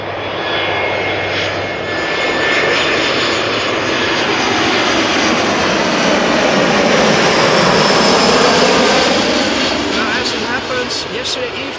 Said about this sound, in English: this is ITA Airways Flight 120, Airbus A320 arriving from Milan